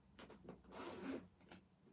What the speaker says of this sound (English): I'm undoing the wrong bit of the zip.